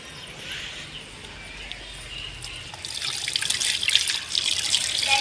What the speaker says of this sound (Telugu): నీళ్ళు పోసేస్తే